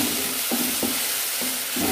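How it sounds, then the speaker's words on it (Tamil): Tomatoes, onions and green chili sauté in a pan with salt, giving a steady low sizzle broken by several soft stirring scrapes at an even, unhurried pace, close and moderately loud with no talk. "நல்லா வதங்கட்டும்."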